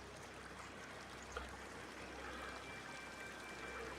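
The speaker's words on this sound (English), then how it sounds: "That's a stream there." A steady, faint stream flows in the feudal Japan game Sengoku Dynasty, a continuous soft wash of running water with a small splash-like blip near the middle.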